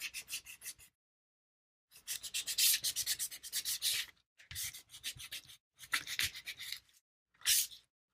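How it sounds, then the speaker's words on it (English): A metal piece being hand-sanded, several bursts of brisk rhythmic rubbing strokes close up, separated by short pauses of silence. "try to get this sanded a bit in places"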